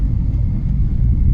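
Deep, steady engine rumble from a Mazda RX-8 heard from inside the moving car, loud and continuous with a resonant low drone and no voices.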